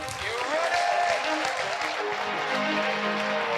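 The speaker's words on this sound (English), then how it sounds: "give me a big round of applause for Miss Andrea Beem." Audience applause welcoming a speaker at an event, a steady wash of clapping that fills the room throughout, with some crowd voices and cheering mixed in.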